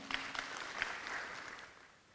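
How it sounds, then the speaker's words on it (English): An audience at an Indian Arrival celebration in Trinidad and Tobago applauds as performers return to their seats, a faint, distant wash of clapping with a few sharper claps standing out, thinning toward the end. "Let's escort them off with a round of applause."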